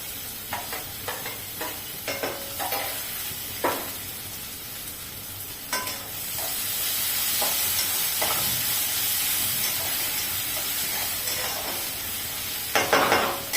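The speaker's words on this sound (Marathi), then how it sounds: "आता आपण यामध्ये टोमॅटो टाकून घेऊ टोमॅटो पण छान परतवून घ्यायचंय" Tomatoes sautéing in a pan with onions already browned red, for a methi matar malai curry: a steady sizzle with intermittent stirring scrapes and clinks, close and moderately loud, no talking.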